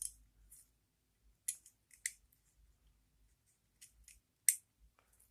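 Small parts of a KastKing fishing reel snap and click into place during a modification, with a handful of crisp, close, quiet clicks spaced irregularly amid near silence.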